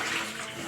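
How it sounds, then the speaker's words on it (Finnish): Water pouring into the reservoir of a home coffee maker, a soft steady splashing rush that runs briefly and evenly at close range, fairly quiet and alone. "Laitetaan vettä tänne."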